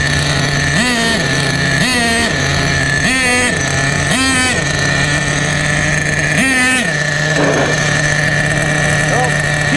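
A vintage Duratrax Nitro Quake RC nitro truck engine, about 25 years old, holds a steady idle and is blipped up in pitch about five times in quick throttle bursts, loud and close.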